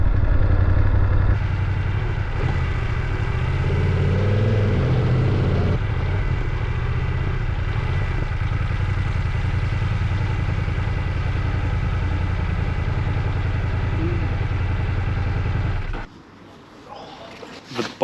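Motorcycle engine drones steadily while riding on a long European road trip, loud and continuous for about sixteen seconds before dropping away abruptly to near quiet.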